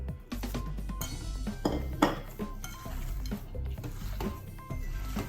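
Tuna kebab filling being mixed with boiled potato in a bowl, giving a steady run of close clinks and scraping knocks from a utensil against the dish, with no talk.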